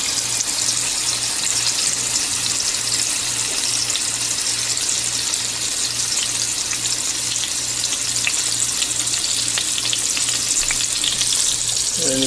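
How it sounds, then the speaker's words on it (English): Rosemary lamb steaks dusted with garlic powder sizzle and crackle loudly in hot oil, a dense, continuous frying hiss close to the pan, with no talking. "And you can see it's sizzling. It's sizzling pretty good."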